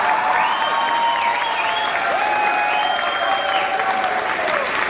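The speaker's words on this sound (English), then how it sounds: "People are like applauding," An audience applauding, steady continuous clapping and crowd noise across the whole stretch, with whistling tones gliding above it.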